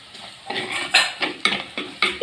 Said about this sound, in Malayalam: ഉള്ളി ഏകദേശം വഴണ്ടിട്ടുണ്ട് കേട്ടോ.